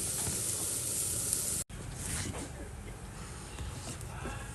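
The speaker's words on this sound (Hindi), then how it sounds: "इसको मैं बिल्कुल स्लो आंच पे भून रही हूँ, और ये बिल्कुल देखो, बिल्कुल क्रिस्पी होए जा रहा है" Stuffing crisps in a pan over a low flame, giving off a steady, even sizzle and hiss that runs throughout, broken by one brief dropout.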